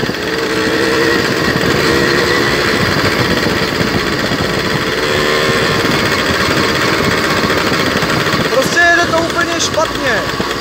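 A Jawa 50 moped fitted with an open air filter runs roughly and unevenly. Its loud, buzzing two-stroke engine drones continuously up close for about ten seconds.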